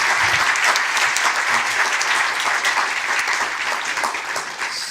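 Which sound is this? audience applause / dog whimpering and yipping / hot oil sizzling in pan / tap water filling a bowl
audience applause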